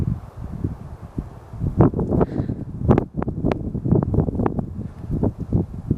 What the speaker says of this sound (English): I'll wait till the wind goes.